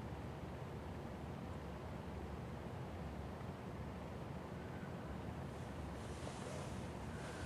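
Wind blowing outdoors, a steady, full roar of gusts buffeting the microphone without a break, with no voices.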